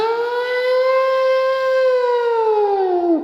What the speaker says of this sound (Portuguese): Que não parece muito aquela sirene de fábrica?